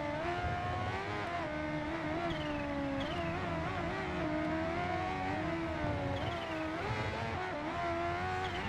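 A Kawasaki H2R motorcycle accelerating at high speed on a track, its engine whining in a loud, continuous high-pitched drone with shifting pitch as it climbs through the revs, heard close and alone.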